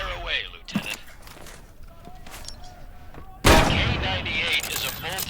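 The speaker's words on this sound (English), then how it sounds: "Now get ammo for this K98 from these and fire away, Lieutenant." Karabiner 98K bolt-action rifle fired in Medal of Honor VR, a loud shot after a few quiet handling clicks, then a sustained burst of noisy gunfire and echoes, with a voice talking.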